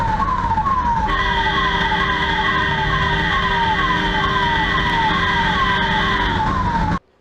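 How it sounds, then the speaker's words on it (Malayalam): An ambulance carrying a patient on a road in Kozhikode blares a loud, continuous wailing siren with a steady horn-like tone layered on top, sustained close by for about seven seconds before cutting off abruptly. "ആംബുലൻസ് നിരന്തരം ഹോണടിച്ചെങ്കിലും റോഡിന്റെ മധ്യത്തിൽ നിന്ന് മാറാതെ കാർ"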